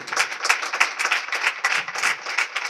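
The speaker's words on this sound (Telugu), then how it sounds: "గట్టిగా చప్పట్లు కొట్టాడు." A church congregation at a Sunday worship service claps loudly, with a quick, steady run of close, sharp hand claps repeating throughout.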